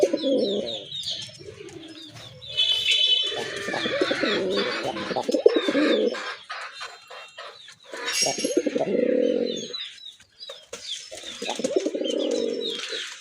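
Native deshi pigeons coo close up in repeated throaty, rolling bursts that overlap and pause, with a few clucking notes mixed in and no talking.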